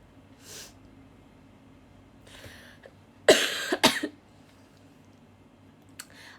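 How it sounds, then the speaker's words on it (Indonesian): A couple of sharp coughs burst out close by in a quiet room, preceded by soft breaths and a faint throat noise. "Aku lagi batuk"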